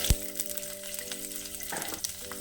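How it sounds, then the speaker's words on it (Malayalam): Coriander seeds dry-roasting in a pan, a soft crackling fry with a sharp clack at the start and faint rattling as the seeds are stirred, steady and close. "മല്ലി നമുക്ക് ആവശ്യത്തിനുള്ള വറവായിട്ടുണ്ട്"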